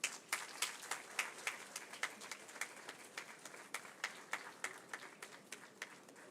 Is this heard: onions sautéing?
no